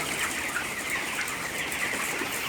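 Baby chicks fill an open poultry house holding three thousand birds with nipple drinkers, a constant dense chorus of high peeping and chirping with no break or talk.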